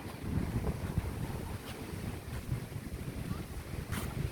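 Wind buffets the microphone along the shore at Bang Saen beach in Chonburi, with a steady low roar of breeze and surf and no talking, moderately faint and continuous.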